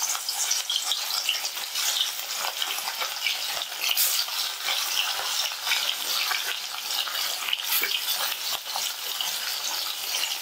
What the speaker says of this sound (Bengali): আমি তেলের মধ্যে এবার মাছের টুকরোগুলো দিয়ে দিচ্ছি।